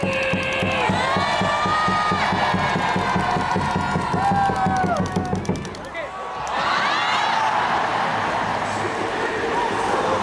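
A crowd at a KT Wiz baseball game shouts and chants in unison, loud and near, dropping briefly partway through before a fresh burst of cheering rises again.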